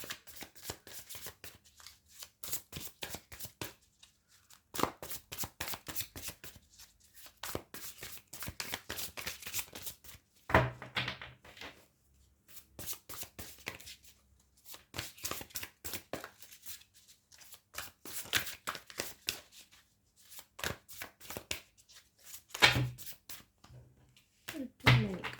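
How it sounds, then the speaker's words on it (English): Tarot cards are shuffled by hand in repeated riffling bursts, each a quick run of crisp flicks and slaps separated by short pauses, close and clear with almost no talk. "Let me just shuffle your cards."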